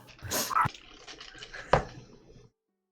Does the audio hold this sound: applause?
no